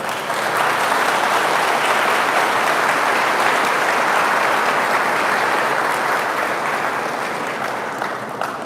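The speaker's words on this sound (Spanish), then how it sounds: "lo recibimos con un fuerte aplauso" A congregation at a church gathering of Protestant pastors and young preachers gives warm, loud applause to welcome a guest, sustained for several seconds before slowly tapering.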